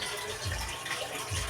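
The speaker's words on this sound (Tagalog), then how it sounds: "Ito tubig." Water runs from a tap in a home bathroom, a steady rushing hiss with a couple of low gurgling splashes, fairly close and uninterrupted.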